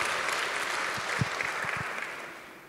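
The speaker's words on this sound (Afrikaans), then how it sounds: "Kan ons 'n hande klap kry?" Church congregation applauding during a Christmas Day sermon, a dense wash of many hands clapping together that slowly fades out.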